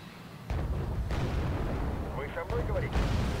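Tank cannon fire in the video game Wargame Airland Battle, with T-55A tanks in the battle: heavy booming blasts over a constant roar of combat, with a few faint chirping effects partway through.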